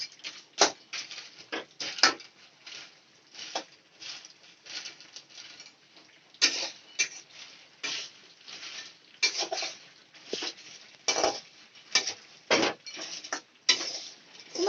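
Peanuts dry-roasting in a pan on a gas stove, giving a quiet, irregular rattling patter of nuts shifting and clicking against the metal, with no talking.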